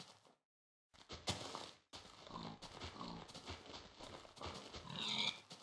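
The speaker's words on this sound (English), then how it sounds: "the hardest thing ever in Minecraft is like killing pigs now" Pig sounds from the Minecraft video game, a few short grunting oinks mixed with in-game effects and music, fairly loud and busy across the whole stretch.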